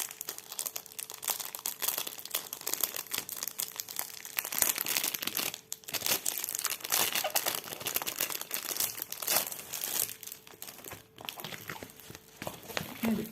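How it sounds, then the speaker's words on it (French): A diamond painting canvas package being unwrapped, with close, steady crinkling and rustling of plastic wrap, irregular bursts of crackle and occasional tearing, fairly quiet and unbroken. "Donc, on va déballer ensemble."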